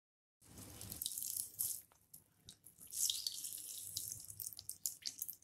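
Water squeezed by hand out of grated cauliflower for gobhi paratha filling, trickling and splashing close by in uneven bursts with small drips between, no talking.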